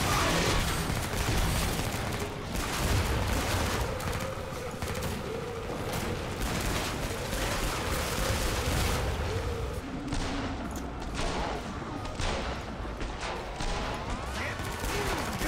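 Rapid gunfire bursts and booming shots from the co-op shooter game Killing Floor 2 roll on for the whole stretch, loud and dense, with players talking over the action.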